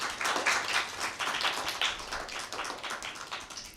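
Audience at a Christmas children's program applauding to welcome girls from a cathedral girls' high school, a lively round of hand claps with audible individual claps, steady for a few seconds and tapering slightly.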